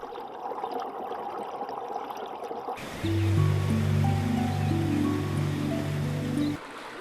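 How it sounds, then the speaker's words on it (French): A river's rushing water roars steadily for a few seconds, then sustained musical tones come in over the continuing flow. "L'eau dévale en tourbillonnant"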